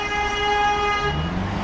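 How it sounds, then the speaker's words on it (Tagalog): A single sustained car horn honk of about a second sounds close by in street traffic in Jinju, South Korea, followed by a low vehicle rumble. "Siya mga busina."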